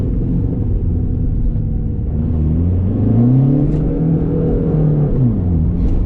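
A Seat Ibiza 1.9 TDI diesel engine with high mileage revs up and settles repeatedly, close and loud, its rising and falling engine tone rumbling steadily with no talk over it.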